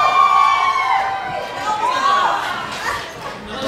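A crowd gathered outside the Louden Nelson Center greets a singer with loud, continuous chatter and cheering, sustained throughout and mixed with voices talking nearby.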